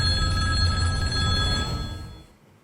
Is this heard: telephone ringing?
yes